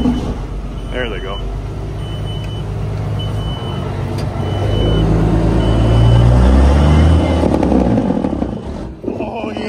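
A heavy truck engine rumbles loudly nearby, building into a deep, rapid staccato roar like an engine brake before easing off near the end.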